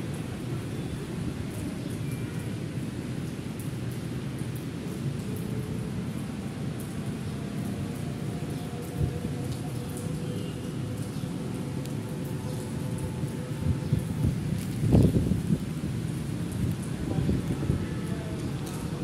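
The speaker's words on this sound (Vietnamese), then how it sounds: "mưa ướt." Rain falls steadily outdoors on a cold, windy, overcast midday, making a continuous dense hiss with a few louder thuds and gusts breaking through.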